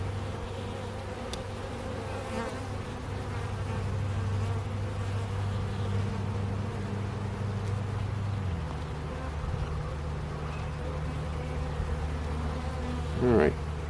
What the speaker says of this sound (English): That bee is big.